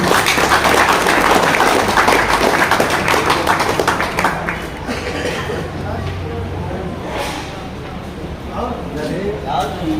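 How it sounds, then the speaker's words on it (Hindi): Crowd clapping for the first-place winner at a Sardar Dalbir Singh pigeon tournament prize distribution in Udgir, dense and loud at first, then thinning out, with voices talking throughout. "जोरों से तालियां बजाओ उनके लिए भाई।"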